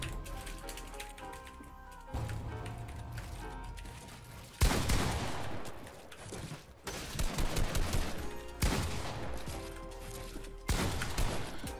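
Gunfire in Fortnite, bursts of rapid shots starting and stopping in several clusters, fairly loud against game background sounds, with no talking.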